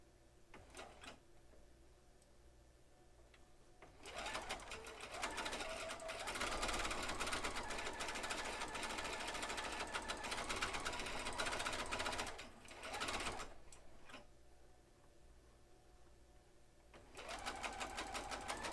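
A sewing machine stitching a flannel hourglass quilt block, running in long rapid bursts of needle clatter separated by quieter pauses, close and loud.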